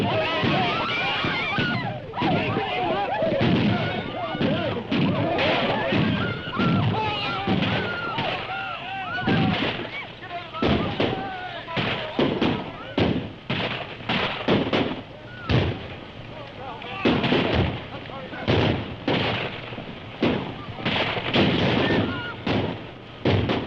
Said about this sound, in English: You're firing too high.